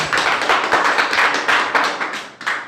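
Audience applause, a dense burst of steady clapping from many hands, loud and close, continuing for a few seconds without speech.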